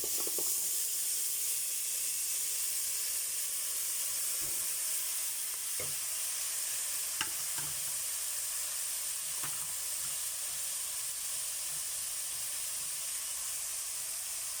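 Tilapia frying in hot oil in a home kitchen pan, a steady, even sizzle and hiss with a few soft clicks and pops, and no voices.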